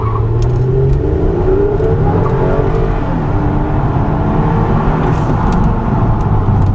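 Toyota Camry XSE V6 accelerating, its engine a loud, close, rising drone over road rumble with no one speaking.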